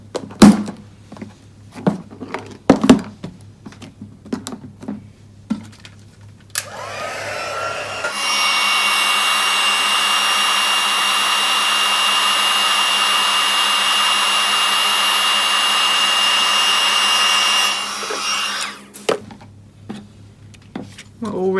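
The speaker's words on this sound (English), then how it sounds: "Now I'm going to heat set that with the heat tool." Crafting heat tool heat-setting stamped ink on a card, a loud steady blowing roar lasting about ten seconds, with clicks and handling knocks before and after.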